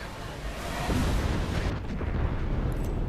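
Airstrike explosions in Apex Legends rumble as a broad, continuous roar of booms and debris noise, heavy and sustained, easing slightly toward the end.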